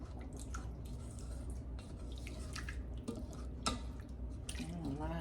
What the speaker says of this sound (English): I'm going to add that in there and just let it simmer.